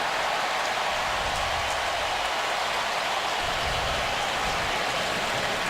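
Rain falls steadily over an open football stadium in Tuscaloosa during an LSU at Alabama game, a dense, even hiss that stays constant throughout with no talking.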